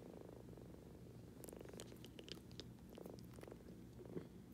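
A kitten purrs steadily and continuously up close, a low rhythmic rumble running throughout with faint handling rustles on top.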